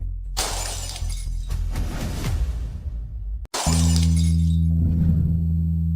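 Glass object shattering in a loud, close crash with scattering fragments, a brief cutoff, then a second bright breaking burst over a low sustained drone.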